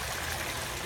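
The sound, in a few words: water recirculating in an aquaponics fish system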